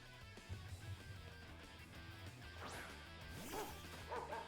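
Dog-type Pokémon in the video game Pokémon Violet letting out a few sharp barks and yips, with a whimpering cry and a crash-like battle hit mixed in over a low game soundtrack.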